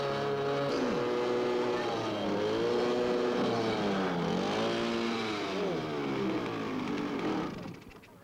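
Petrol go-karts drive past at a karting track, a buzzing engine note rising and falling in pitch as they accelerate and brake, heard fairly close and continuous before fading out.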